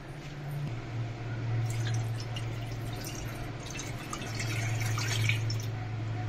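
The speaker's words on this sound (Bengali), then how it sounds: "এবার একটা পাত্র নিয়ে নিয়েছি, এর মধ্যে আমি কিছুটা জল ঢেলে দেব।" Two to three cups of water go into a cooking pot being readied to steam hilsa fish, a soft close pour with light drips and splashes that runs steadily for several seconds, with no voices.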